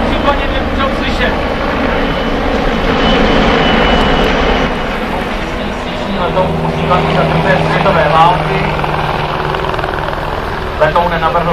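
A vintage propeller airplane of the kind designed in the 1930s flies over an air show in Hradec Králové, a loud, steady engine drone with a broad roar that swells and fades slightly as it passes, under crowd noise and a commentator's voice.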